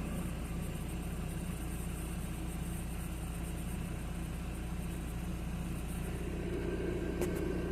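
A Nissan 240SX with a recently repaired head gasket and a misfire problem idles at about 1,000 rpm, giving a steady, even low rumble that holds unchanged for nearly eight seconds with no talking.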